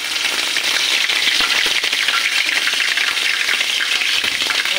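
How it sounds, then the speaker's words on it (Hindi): Ginger and garlic sizzle loudly in hot oil as the tempering for kadhi is made, a dense, steady crackling hiss close up that continues unbroken with no talk. "देखिए मैंने इसमें बघार लगा रही हूँ"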